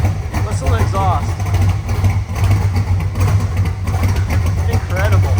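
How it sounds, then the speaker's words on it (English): A restored 1966 Chevrolet Corvette coupe with a 355 cubic inch engine, four-speed manual and side pipes idles with a deep, steady, loud exhaust rumble, with faint voices over it. "Listen to the exhaust."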